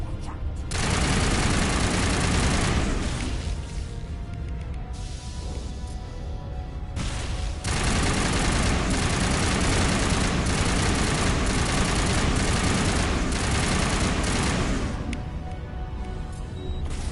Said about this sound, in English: Citadel defense turrets are on our side